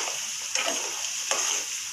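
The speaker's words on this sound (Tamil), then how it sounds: "மிளகாய் நல்லா ஃப்ரை ஆகட்டும், அந்த கலர் வந்து கொஞ்சம் நல்லா சேஞ்ச் ஆகட்டும்." Dried red chillies stir-frying in a pan: a steady close sizzle broken by a few scraping stirs of the spatula.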